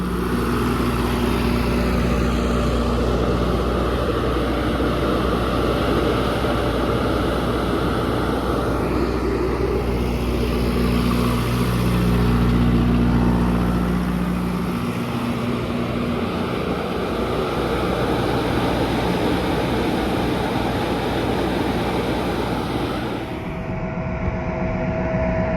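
A farm sprayer runs continuously for a long stretch while oil coats its lines, a steady engine drone with low hum tones that shift midway, heard alone without voices.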